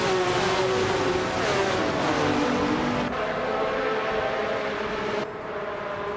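A 1983 Lancia LC1 Group C2 race car in a racing video game screams at high revs, the loud, sustained engine note shifting pitch through gear changes amid other cars, with no voices.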